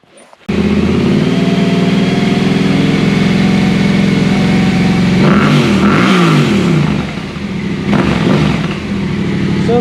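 A Yamaha T7 motorcycle fitted with an HP Corse exhaust, starting up and idling loud and close, then revving hard in a couple of rising bursts before settling back to a steady rumble.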